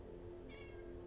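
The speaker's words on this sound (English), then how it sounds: "oh, hello, cat" A house cat gives one short, faint meow partway through, heard against a quiet indoor background hum.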